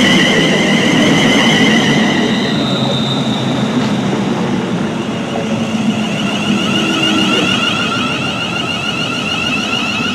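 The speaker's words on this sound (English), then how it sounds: "Just trundling in now. And it's a class 350" A class 350 electric multiple unit trundles into a station, a loud steady rumble of wheels and motors with high metallic whining tones rising and fading, continuous for the whole stretch without voices.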